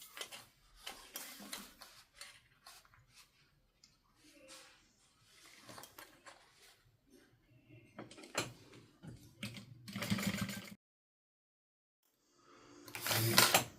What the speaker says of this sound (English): I am going to top stitch from the top to the bottom